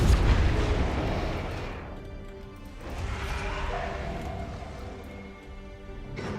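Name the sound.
torpedo explosions in Battlefleet Gothic Armada 2 video game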